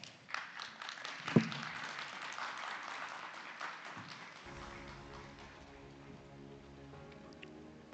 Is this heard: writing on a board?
no